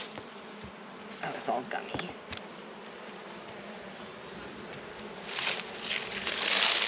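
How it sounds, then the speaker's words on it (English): Honeybees buzz over hive frames as the frames are handled, with sticky crackles and knocks, a brief remark spoken, and the buzzing swelling louder toward the end. "The bees are on every single frame."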